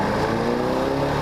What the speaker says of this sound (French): c'est un bruit d'origine de moto